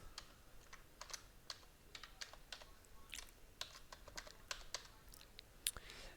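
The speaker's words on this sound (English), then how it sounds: "So I've typed it in, and then hit the blue next button." A password is tapped out on a computer keyboard as a run of faint, close, irregular key clicks over a quiet background.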